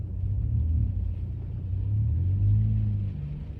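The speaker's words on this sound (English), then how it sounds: "And now the car is leaving" A car pulls away in a steady low engine rumble that swells slightly toward the end, continuous and close, with no voices.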